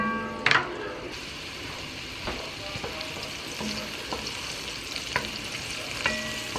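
Vegetables saute in a pan with a soft, continuous sizzle, broken by occasional light scrapes and clicks of stirring, close by and fairly quiet.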